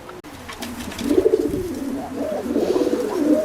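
Oriental Roller pigeons coo steadily inside a breeding loft with a small fly pen, low throaty rolling calls overlapping and rising in loudness, several birds close by, with no talk.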